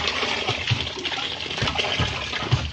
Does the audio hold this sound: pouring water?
yes